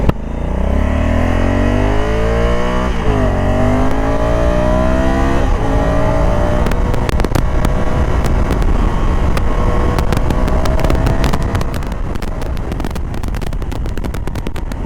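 Honda Africa Twin Adventure Sports motorcycle in urban mode accelerating hard, the engine climbing through several gears with rising revs and shift dips, loud and close, ending in a steady roaring run.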